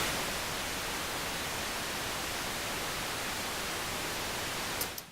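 A synthesizer noise generator with the oscillators off holds a long note, giving a steady broadband hiss. It plays loud and unbroken for about five seconds, then ends abruptly.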